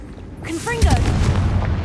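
Hogwarts Legacy's Confringo explosive curse, a sharp whooshing cast followed by a heavy booming impact that rolls on as a sustained low rumble, with a brief vocal-like tone just before.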